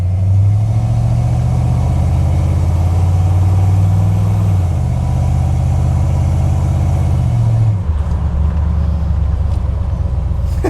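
Old pickup truck engine running steadily and loud, with a drop in pitch and a change in tone near the end as it shifts out of first gear; no talking.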